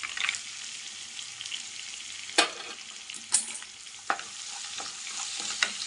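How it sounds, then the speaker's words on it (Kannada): Roasted peanuts fry in a hot pan for garlic chili rice, giving a steady close sizzle broken by a few sharp scraping knocks as they are stirred. "ಈಗ ಇದಕ್ಕೆ ನಾನು ಕಡಲೆಕಾಯಿ ಬೀಜ ಹಾಕೋತಾ ಇದ್ದೀನಿ"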